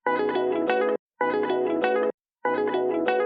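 An original sample chop for a lo-fi hip-hop beat plays three times, each a loud, bright, sustained musical phrase of about a second, broken by short silent gaps.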